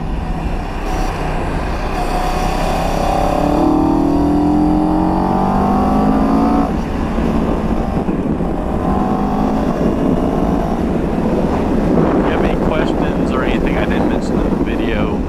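A CFMoto 700 CL-X motorcycle is ridden at steady speed, its engine droning with some rises in pitch as it accelerates under constant heavy wind rush across the microphone.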